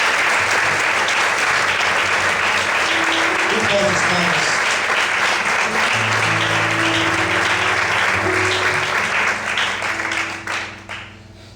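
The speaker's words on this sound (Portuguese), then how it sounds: "Vamos aplaudir ao Senhor por uma vida." A church congregation applauds during a worship service, a loud continuous wash of clapping with some voices and faint music tones underneath, holding steady for about ten seconds before tapering off.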